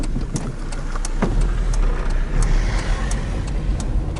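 A car drives by close on a road at Oravasaari, Finland, its engine and tyre rumble steady and fairly loud for several seconds, with scattered clicks and outdoor noise mixed in.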